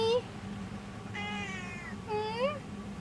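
A pet cat named Min Min meows three times, a short call followed by two longer, drawn-out meows, clear and close over quiet room noise.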